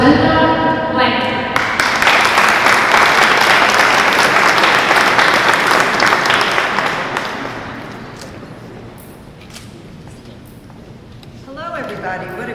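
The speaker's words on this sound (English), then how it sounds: "Please give her a warm applause to Linda Blackinger." An outdoor chamber of commerce audience bursts into warm applause that swells for several seconds, then thins to a few scattered claps as the crowd settles.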